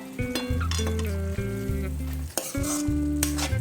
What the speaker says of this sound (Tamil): இதெல்லாம் போட்டதுக்கு அப்புறமா நல்லா மிக்ஸ் பண்ணி விட்டுடுவோம்